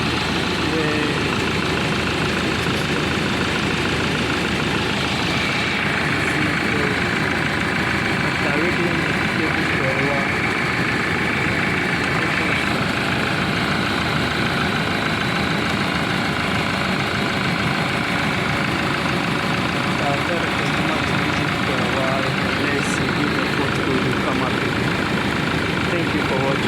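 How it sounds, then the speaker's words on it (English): A 2007 Land Rover Defender engine runs steadily at idle throughout, a continuous close mechanical drone with faint knocking texture and some background noise. "So now after touching the cables, now the vehicle is running."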